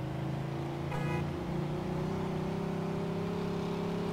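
Car engine in the video game Mafia 2 droning steadily at high speed, a continuous loud hum with a slight pitch shift midway, heard alone without talk.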